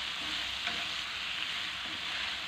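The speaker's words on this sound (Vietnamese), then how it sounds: "xào đều tay này" Pork ear with lemongrass and chili stir-fries in a pan, a steady close sizzle with soft stirring scrapes, no voices.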